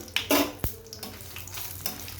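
Brief crackling sizzle of a green chili frying in hot oil, with a few clinks and stirs, no voices.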